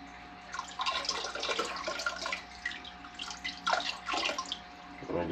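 Water splashes and trickles as a filter sock is rinsed out, with uneven bursts of running flow and drips over a faint steady hum, close and moderately loud.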